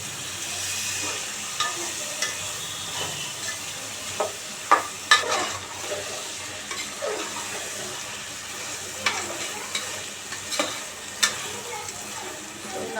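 Eggplant and potato pieces stirred in a frying pan on a gas stove, giving a steady sizzle with scraping spatula strokes and clattering knocks throughout, loud and close, without speech.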